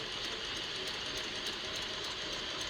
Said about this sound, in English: you want to back stitch right there really well